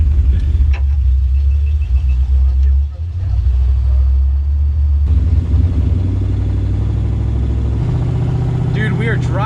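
A 1976 Chevy Camaro driving on the road, its engine a steady low drone with road rumble throughout, rising slightly in the second half, with people talking over it.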